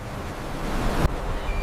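Sea breeze gusting over surf at a coastal cliff osprey nest, a steady roar of wind buffeting the microphone with waves washing below, close and continuous with one sharp gust thump.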